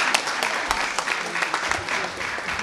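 An audience applauds after a student speaker at a Seattle celebration event with the mayor, producing dense, steady clapping from a crowd that carries throughout at a fairly loud level.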